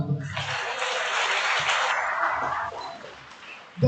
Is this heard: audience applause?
yes